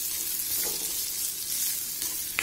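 Onions sautéing in a pan with salt while making Bombay chutney, a steady soft sizzle that fills the whole stretch at an even level, close and unbroken, with no talking.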